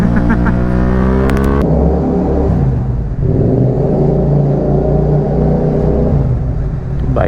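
A motorbike engine revs loud and close, with a steady low rumble and harmonic whine that rise and fall in pitch throughout, briefly dipping before climbing again; no voices.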